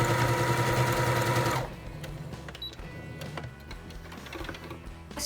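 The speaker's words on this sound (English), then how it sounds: "take those shorts to your trusty 10-year-old sewing machine or needle and thread of your choice and sew that sucker down." A roughly ten-year-old home sewing machine stitching down a pair of shorts, with a loud dense whirring run that stops after about a second and a half, followed by quieter scattered clicks and handling noises.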